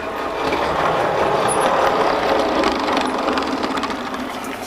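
A model railway passenger train runs in on the layout, giving a steady, close mechanical whirring and rattling hum that stays constant throughout with no talking.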